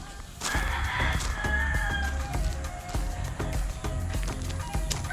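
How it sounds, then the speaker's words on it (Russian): A rooster crows at a distance over a busy outdoor background of low rumbling and clattering noise. "Петухи это у соседей."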